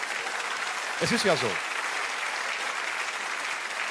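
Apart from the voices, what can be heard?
audience applause at a live comedy show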